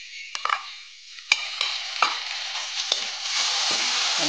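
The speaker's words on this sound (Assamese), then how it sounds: "এতিয়া ইয়াতে মই এই আদা নহৰু পিচি থোৱা আদা নহৰু অকণ দি দিছোঁ।" Ginger-garlic paste frying with onions in a hot pan, a steady close sizzle with a spoon scraping and stirring in several sharp knocks, no talk over it.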